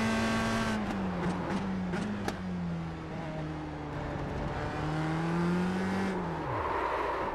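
A race car in the VR racing game iRacing power-drifts, its engine note sliding down and then climbing in a long loud whine, with sharp bursts near the start and a falling dip at the end.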